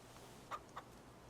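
Chickens in the video game Farming Simulator 25 on a farm: two quick, faint clucks over a low, steady background hum.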